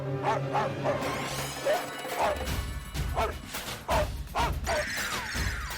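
Several sharp, excited dog barks and yips in quick bursts, fairly close, with clattering and thumps mixed in, as a dog chases a cat into a house in a TV comedy scene.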